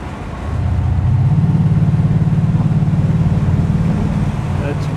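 A 2003 Mercedes SL55 AMG engine revs near 2,000 rpm in sport mode, a deep, steady low honk that swells after half a second and holds loud for several seconds before easing slightly at the end.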